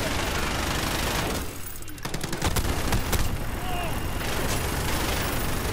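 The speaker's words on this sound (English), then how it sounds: "Never stop shooting, keep shooting" Call of Duty Modern Warfare multiplayer gunfire comes as dense, crackling automatic bursts with sharp individual shots in the middle. A player talks over the continuous battle noise.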